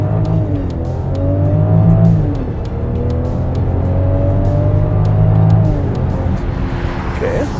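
A 2022 Range Rover Velar in dynamic mode accelerates hard, the engine note rising in long sweeps, dipping briefly at a gear change and then climbing again, loud and continuous from inside the cabin.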